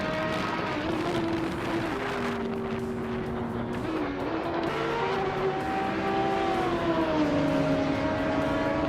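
A Ferrari FXXK race car engine in a racing video game holds a loud, steady high-revving whine that shifts pitch as it climbs and drops through the gears. Other engine drone is mixed in behind it, and nobody speaks.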